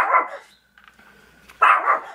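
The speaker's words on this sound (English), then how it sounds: "I've got a barking dog" A pet dog barks indoors at a home supplies desk, two loud, close barks separated by a short pause, with faint clatter in between.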